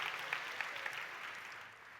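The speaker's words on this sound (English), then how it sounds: "clap if you went further the second time" An audience at an entrepreneurship festival claps steadily, a dense wash of many hands filling the hall at moderate volume, tapering off slightly toward the end.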